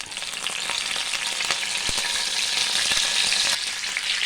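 Curry leaves hit hot oil in a pan and burst into loud, continuous crackling sizzle with a few sharp pops, steady and close throughout with no talking.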